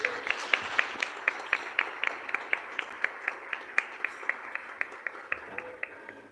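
A church congregation claps together in a steady, even beat, about three claps a second, sustained throughout at moderate distance.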